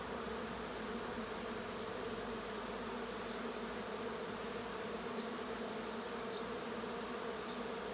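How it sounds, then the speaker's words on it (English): A honey bee swarm hums in a steady, dense buzz that holds at an even loudness throughout, with a few faint higher insect whines drifting over it and no voices. "There are some bees here waiting."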